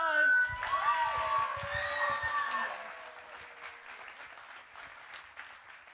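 An audience at a community arts academy evening in Canajoharie claps briefly, a burst of applause that fades within a few seconds, while bright tonal sounds ring over it near the start.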